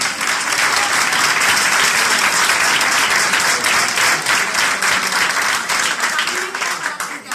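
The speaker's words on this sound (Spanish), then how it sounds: "Un aplauso para él, por favor." Loud, sustained applause from a crowd at a gathering of Vera pitarra winemakers fills the whole stretch, dense and even, tapering slightly at the end.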